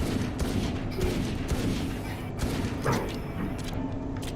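Valorant match audio carries rapid cracking gunfire with thuds and booms, dense and continuous at close range, a Sheriff pistol among the shots.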